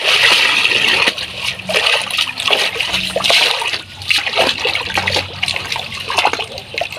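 Rice being washed and shaken in a large bucket of water, with steady splashing and sloshing that continues throughout at close range, with no talk.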